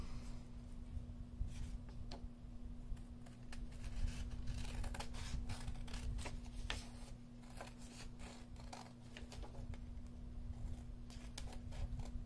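Scissors trimming around a glassine paper pocket, with soft continuous crinkling and snipping close by, quiet against a low steady hum.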